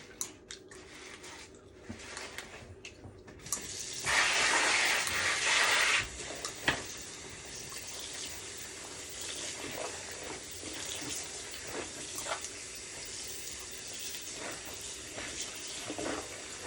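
Tap water pours into a kitchen sink filled with soap and water for soaking cooking pots, a bright hissing gush for about two seconds, then quieter splashing and clinking of dishes.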